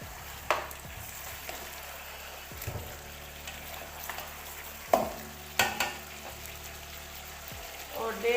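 Beef trotters frying with garlic paste in a pan, a continuous sizzle broken by several clanks and scrapes of stirring, moderately loud and close.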